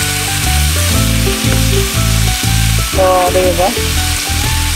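Tomatoes frying in a pan for a saucy home-cooked dish, a loud steady sizzle with stirring clatter throughout and a brief spoken remark near the end.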